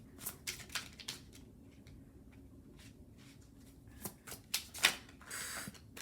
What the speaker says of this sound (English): Your deck's going to be extra shuffled.